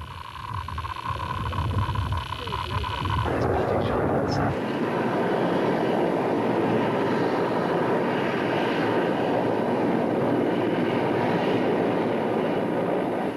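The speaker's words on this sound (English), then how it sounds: "Here, an Mi-24 gunship flies over a Stinger well within range, but the missile fails to lock on target." A Soviet Mi-24 gunship helicopter flies overhead in a combat setting, a loud, continuous engine and rotor roar that swells as it passes, with a narrator speaking over the start.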